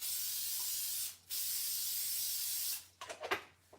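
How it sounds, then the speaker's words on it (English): Cooking oil sprays from a pump mister onto seasonal autumn vegetables, two long close hissing bursts with a short pause between, followed by a few quick spritzes and light clatter. "give them a little spray with oil."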